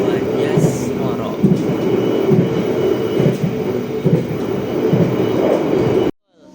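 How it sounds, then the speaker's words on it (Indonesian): Argo Anjasmara passenger train with first-generation stainless steel carriages arriving at Bojonegoro station, loud steady rumble with rhythmic clickety-clack of wheels over rail joints, ending abruptly. "kereta api Argo Anjasmara tiba di stasiun Bojonegoro."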